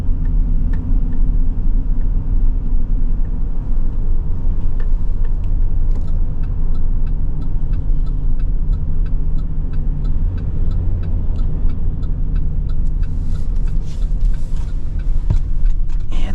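A 2026 Chevy Express 15-passenger V8 van drives along with a steady, smooth low engine and road rumble. Faint light rattles sit on top, and there is no talking.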